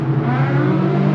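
Race cars on a main straight roar loud and close, a sustained engine drone with layered rising tones that fills the whole moment without a break.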